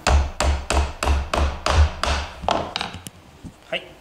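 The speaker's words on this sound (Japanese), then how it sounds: "手で押さえていただきながら金槌で止めていきましょう" Hammer driving decorative upholstery tacks into a wooden folding outdoor deck bench, six or seven sharp, evenly spaced strikes close by, then a few lighter scattered taps.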